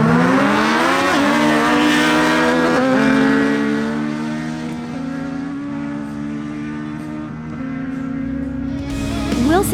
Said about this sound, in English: We begin with a duel between Albiro Orozco on his Yamaha MT-09 and Wilson Mejia on his Kawasaki